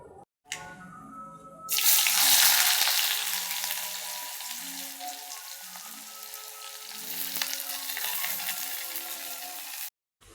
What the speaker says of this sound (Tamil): இப்போ மீன் குழம்ப தாளிக்க போகிறேன்.